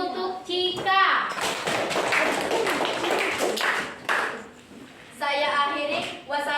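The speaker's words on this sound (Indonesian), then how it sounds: "Tepuk tangan dulu untuk Cika" An Indonesian classroom bursts into quick, dense clapping for a young girl named Cika, with children's voices and an adult speaking just before and after the applause.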